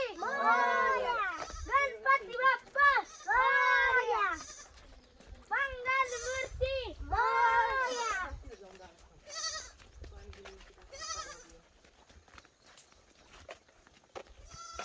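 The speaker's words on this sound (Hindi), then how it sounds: "ये हमारी भेड़ और उसका बच्चा वहाँ पे अंदर है।" A sheep and her lamb bleat in a village, with several loud, wavering bleats up close that trail off into quieter calls, and children's voices faint in the background.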